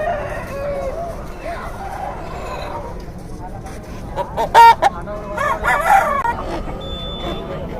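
Country chickens and roosters at an outdoor poultry market in Nallapadu, with clucking and a loud close rooster crow rising midway over a steady crowd murmur and faint background voices.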